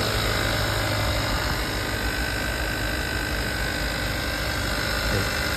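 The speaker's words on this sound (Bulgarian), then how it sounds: "Двигателят работи уникално" A Hyundai Santa Fe Sport with a 2.0T GDI engine idles steadily, a continuous even mechanical hum and whir with no change in pace or loudness, heard close.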